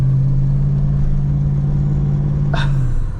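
A 1970s Holden HQ DeVille V8 car on the highway, a steady low engine drone with a sustained hum that holds throughout, closely heard from inside, with a brief higher whine near the end.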